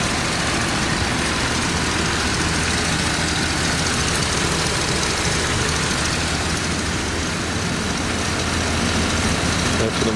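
A car engine idling during an ignition timing check with the vacuum advance disconnected, a steady loud close-up drone with broad mechanical clatter and no change in pace for the whole stretch.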